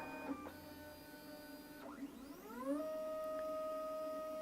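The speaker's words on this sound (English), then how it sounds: "There it goes, probing all four corners." Lulzbot TAZ6 3D printer running its probing and auto-leveling routine, with stepper motors whining in rising and falling tones, short clicks between moves, then a steady sustained motor tone, close and alone.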